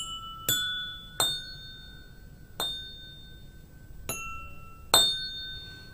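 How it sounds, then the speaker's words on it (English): Water glasses filled to different levels struck one at a time, five bright ringing clinks with clear pitched tones that decay slowly, spaced unevenly over a quiet background. "it is the last glass with lowest level of water that is producing the highest sound"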